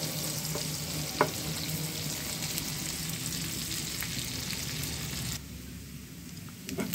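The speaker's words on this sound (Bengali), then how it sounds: "এভাবে নেড়ে চেড়ে মাছগুলো একদম ঝুরঝুরে করে ভাজতে হবে।" Fish being stirred and fried crisp in a pan, a continuous close sizzle with occasional spatula scrapes and taps, the hiss easing a little toward the end.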